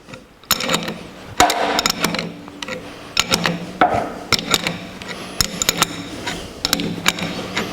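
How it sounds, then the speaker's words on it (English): Wrench ratcheting on a nut to press a harmonic balancer onto the crankshaft of a 1949 Chevrolet gasser engine, with repeated close clicking and metallic clanks in bursts. "to tighten the nut on the shaft. And by doing so, it will push that harmonic balancer onto the crankshaft"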